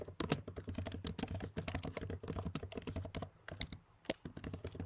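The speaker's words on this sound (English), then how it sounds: "Sorry if you can hear the keyboard noise," Rapid clicking keystrokes on a computer keyboard, close and fairly quiet, in irregular bursts with brief pauses.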